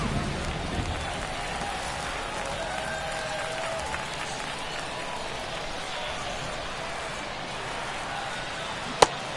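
Steady rain falls across a baseball field during a Mets versus Cardinals spring training game in MLB 23, a continuous broadband hiss with one sharp click near the end.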